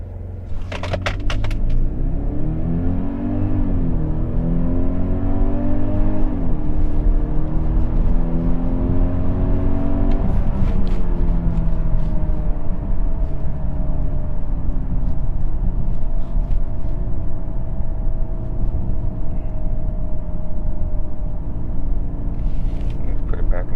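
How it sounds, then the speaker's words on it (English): A 2021 Genesis GV80 2.5T Prestige 4WD SUV accelerates hard from a brake-torque launch, its engine drone climbing steadily in pitch through shifts over a loud, constant road rumble heard from inside the cabin. "Let's go ahead and do one more acceleration."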